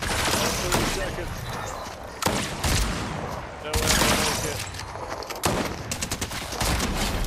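Rapid submachine gun fire from a video game, with dual SMGs, crackles in dense bursts throughout, loud and close, with a speaking voice partly under the shots.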